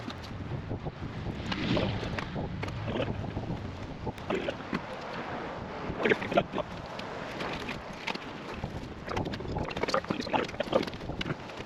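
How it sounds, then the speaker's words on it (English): Cold wind blowing outdoors buffets the microphone in gusty, uneven bursts, a rough rushing noise that rises and falls with no speech. "it's really cold and windy out"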